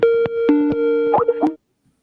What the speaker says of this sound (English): No, your computer is not ringing. You'll remember that sound. It's the Skype call.